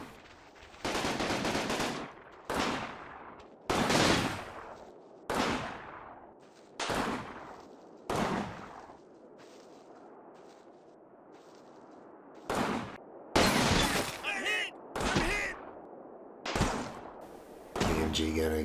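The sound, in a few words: machine gun fire in video game Combat Mission Battle for Normandy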